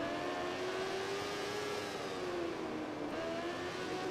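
A racing motorbike engine in the MotoGP 15 video game at the Catalunya circuit, a loud, steady, high-revving whine whose pitch rises and falls, with a shift just after three seconds, heard alone with no talk.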